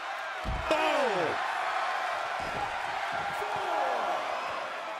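A WWE wrestling crowd cheers and roars steadily in a large arena, a continuous wash of noise under a commentator's voice.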